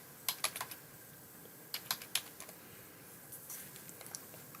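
Quick bursts of keystrokes on a computer keyboard, a few clustered taps then a pause and another short run, fairly faint and close with no talking.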